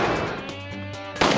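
A single loud gunshot booms close by in a kitchen filled with gas, its blast decaying into a rumbling echo before a second sharp burst of noise near the end.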